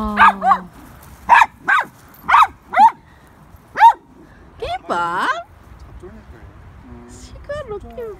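Jindo and Pungsan puppies, about six months old, bark in a series of sharp close yips at a lake park, followed by whimpering and people talking.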